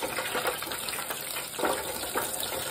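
Crab rangoon fry in hot oil, gently stirred with a spoon: a dense, steady sizzling hiss with brief swells, close and continuous, no talking.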